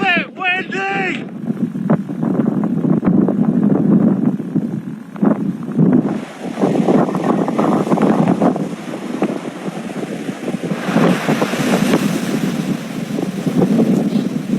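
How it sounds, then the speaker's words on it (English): Strong gusty wind from Storm Bert roaring and buffeting the microphone outdoors near snowy hills, loud and continuous, with someone talking briefly at the start. "It's a little bit windy!"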